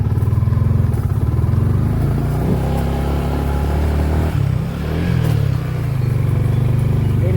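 Motorcycle carrying riders on a mountain trip, its engine droning steadily and close throughout with brief dips, road rumble and clatter underneath.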